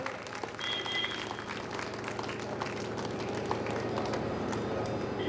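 Steady, dense applause from a large audience at a Hindu religious discourse gathering, sustained and even throughout, heard from some distance in a reverberant space.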